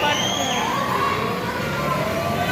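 Children shout and play in an indoor playground, a dense, continuous wash of overlapping shrill voices and crowd noise filling the space at close range.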